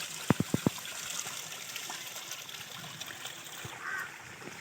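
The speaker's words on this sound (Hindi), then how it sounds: "इत्थों पानी बाहर निकला" Water runs steadily from a mountain spring in a valley in Azad Kashmir, a continuous splashing trickle heard close, with a few sharp knocks near the start and faint voices in the background.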